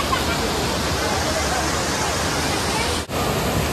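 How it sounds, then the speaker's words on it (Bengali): Loud, continuous rush of a waterfall near Guwahati, a dense roar of falling water heard up close that cuts out briefly near the end. "এই দেখো কি স্পিডে ঝর্ণার জল চলে আসছে"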